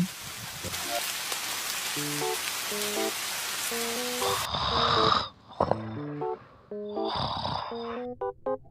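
Steady rain hisses across the first half in a Filipino animated scene, then gives way to sparse drips and short musical tones, with chiming notes running throughout.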